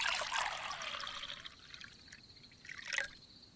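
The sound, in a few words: wine being poured into a glass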